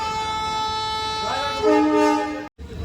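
A loud, sustained horn from the Padatik Express passenger train at New Jalpaiguri Junction blares with a rich stack of tones, shifting pitch partway through, then cuts off abruptly.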